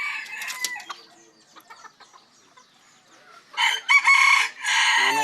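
Bantam chickens cluck in scattered, quiet bursts, then one crows loudly and close in two strong calls near the end.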